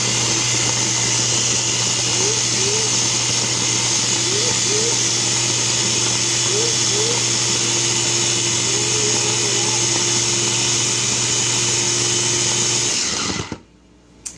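A blender motor roars steadily for about thirteen seconds blending a banana shake, loud and close, with a high whine and faint rising pitch shifts before it abruptly cuts off.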